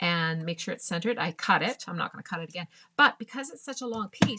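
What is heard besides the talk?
No distinct noise like a dog, phone or traffic.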